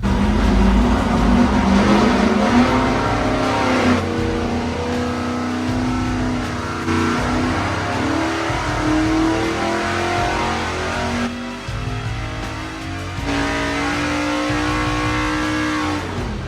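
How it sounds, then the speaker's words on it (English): A race car engine runs on a dyno, revving hard and steadily for the whole stretch, with loud sustained harmonic drone and pitch shifts as throttle changes, brief dips between pulls, no talking. "get this engine dynoed"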